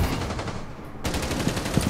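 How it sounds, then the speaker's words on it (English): Rapid automatic gunfire in Rainbow Six Siege (Operation Wind Bastion), steady bursts of shots from behind the player that continue loud and dense through the whole stretch with a brief dip near the middle. "You get somebody behind you shooting at you"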